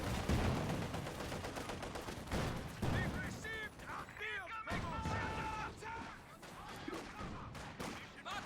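Heavy tank in a real-time strategy game firing amid a busy battle, with repeated booming shots, crashes and overlapping weapon noise under a caster's voice.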